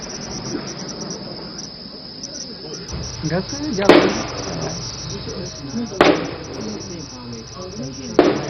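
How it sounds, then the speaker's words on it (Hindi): Gunfire during an armed encounter in the dense forested hills of Anantnag sounds as three sharp distant cracks a couple of seconds apart, over a constant bed of insect chirring, with voices talking underneath. "आप सुनिए किस तरह से यहां पर फायरिंग की आवाज आ रही है"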